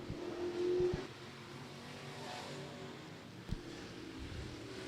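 G&G Express Sport Mod race cars on a hot lap time trial at Florence Speedway, engines droning faintly from a distance with a swell near the start and a small thump partway through.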